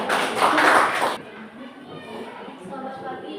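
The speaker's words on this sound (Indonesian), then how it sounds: "Oke, tepuk tangan." Students in a classroom break into a short, dense burst of clapping that stops after about a second, leaving quieter room sound.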